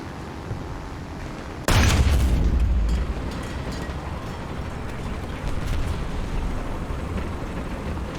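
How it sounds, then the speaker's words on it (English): A bomb detonates in War Thunder with a sudden loud boom at about 1.7 seconds, a deep rumble trailing for over a second before settling into steady game ambience and scattered distant noise. "That bomb's had a bloody short fuse."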